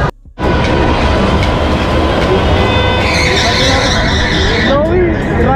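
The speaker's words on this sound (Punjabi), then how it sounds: "ਲਓ ਵੀ ਰਾਈਡ ਐਨ ਸ਼ੁਰੂ ਹੋ ਗਈ ਆ, ਡਰ ਜਾ ਲੱਗਣ ਵਾਲੀ।" A fairground ride at Chhapar Mela starts up with a loud, steady mechanical roar and rumble, joined by a rising whine that later fades into a blur of crowd noise.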